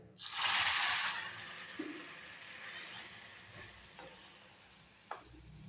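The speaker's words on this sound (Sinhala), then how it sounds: "ඊළඟට මේ උණු වතුර පොඩ්ඩකුත් දාගෙන පොඩ්ඩ හැඳි ගාගෙන" Hot water poured into melted, golden caramelised sugar in a pan bursts into a loud hiss and sizzle. The hiss fades to a steady, quieter bubbling, with a few faint stirring clicks and knocks from a spoon.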